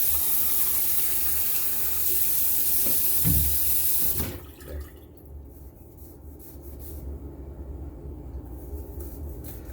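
Water runs from a tap into a bowl at a sink during shaving prep, a steady near rush that cuts off abruptly partway through and leaves a low hum behind, with a brief spoken word.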